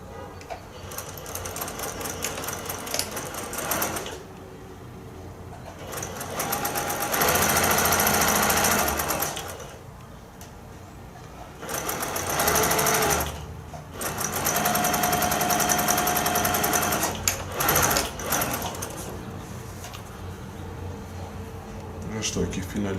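Sewing machine stitching a quilt block with the stitch length set at 2 mm, running in several long bursts of steady mechanical whirring separated by pauses, with someone talking quietly over parts.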